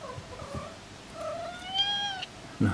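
A cat meows a few times at moderate distance in a quiet room, with soft rising cries followed by a short thump at the end and no talking.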